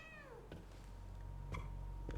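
A cat gives a drawn-out meow in the horror video game The Medium, followed by faint footsteps over a low ambient hum.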